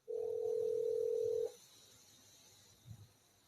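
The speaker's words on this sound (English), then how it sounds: "There, it's ringing. Right, it is ringing now." A telephone call rings out as a single steady tone that lasts about a second and a half, then stops, leaving quiet room noise and a faint soft bump.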